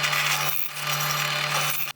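A power tool grinds steadily at close range, widening mounting holes in a metal pannier rack on a KTM 690 Enduro, with a brief dip midway before a sudden stop.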